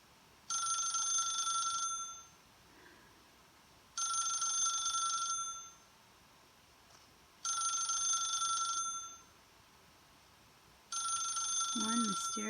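A telephone rings in The Stanley Parable video game: four long, evenly spaced ring bursts with short pauses between them, fairly loud and clear in a quiet room.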